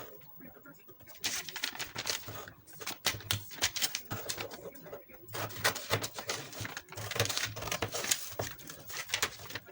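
Scissors cutting through a drafted paper bodice pattern, a series of close crisp snipping and rustling bursts after a quiet start, with faint bird cooing in the background.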